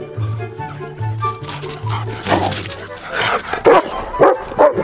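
A dog barks and whimpers in a series of short, uneven yelps and whines, with stepped whining tones early on giving way to sharper, louder barks toward the end, nearby and without talk.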